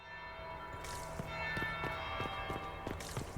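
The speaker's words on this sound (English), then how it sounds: "And that's bell number 1" Bell tolling in Dragon Age Inquisition, a series of evenly spaced strikes with ringing tones over a steady ambient hum, moderately loud and without speech.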